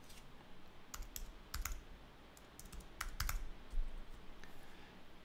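Fingers type on a computer keyboard in short bursts of quick clicks separated by pauses, close and fairly soft in a quiet room.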